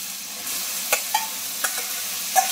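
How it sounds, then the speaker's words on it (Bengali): Boiled soybeans go into a pan of well-cooked spice masala, frying with a steady soft sizzle. A few sharp spatula scrapes and clicks break through the hiss, and no one speaks. "তারপরে এর মধ্যে সোয়াবিন গুলো দিয়ে ভাজবো"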